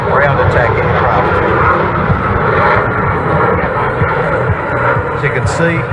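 A supersonic, all-weather, carrier-capable multi-role fighter jet roars past at an air show, a loud sustained engine rumble with a public-address voice talking over it throughout.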